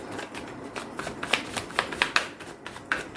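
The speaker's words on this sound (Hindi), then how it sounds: "सो मैं यहाँ से आपके लिए कार्ड्स निकालूंगा" Tarot cards are shuffled and drawn by hand, a run of quick papery riffles and sharp slaps coming in uneven bursts, close and fairly loud with no talking.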